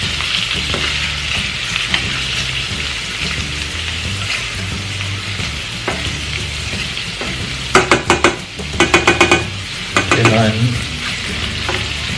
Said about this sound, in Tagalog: Let's just saute for a while.